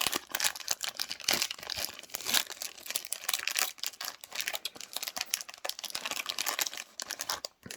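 Foil of a thin nine-card Star Wars CCG Dagobah expansion booster pack tearing and crinkling open, a busy stream of close, dense rustles and rips running steadily with no talk.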